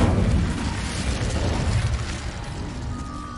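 A Hogwarts Legacy Incendio fire spell bursts out in a loud, dense whoosh with rumbling low-end that holds steady for a few seconds before easing slightly, with no talking over it.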